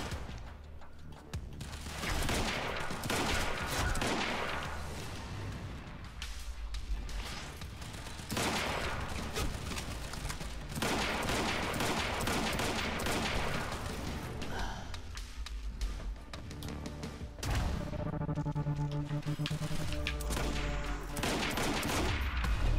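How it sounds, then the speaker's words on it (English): Sustained gunfire while shooting at snipers in the video game Quantum Break, dense bursts of shots mixed with game music and effects, loud and continuous throughout. "Well, I can also shoot the snipers though"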